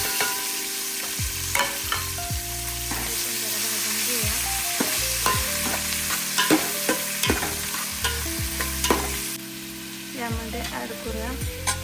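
Onions fry with whole spices in a pan for chicken biryani, a loud steady sizzle broken by frequent spatula scrapes and clanks against the metal, stirred throughout with no talking.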